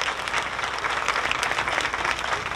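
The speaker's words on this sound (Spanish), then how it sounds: "Fuerte el aplauso para todos ellos," Audience at the inauguration of equine therapy sessions in Apizaco applauds for the children, dense continuous clapping from a crowd, fairly loud and even throughout with no talk over it.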